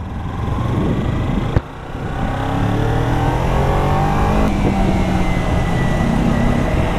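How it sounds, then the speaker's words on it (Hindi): Kawasaki Ninja 300 motorcycle engine on a night ride in Mumbai, a steady, loud drone with rising pitch sweeps as it accelerates through the gears, briefly dipping once near the start. "आज अपने फ्रेम पे है एकदम नई बाइक निंजा 300 जो बिलोंग करती है वीरू भाई को।"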